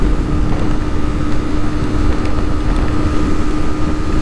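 A Yamaha R3 motorcycle ridden fast through Los Angeles, heard as a steady, loud rush of wind over a constant engine drone.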